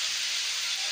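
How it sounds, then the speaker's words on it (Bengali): Mixed vegetables fry in a pan with a steady, even hiss of sizzling oil that holds constant throughout the brief moment. "সবজিগুলো মোটামুটি ভেজে নিচ্ছি বন্ধুরা।"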